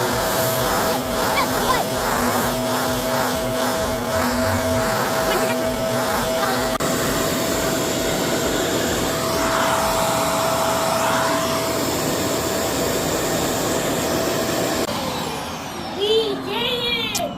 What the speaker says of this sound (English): That is a full-size vacuum right there.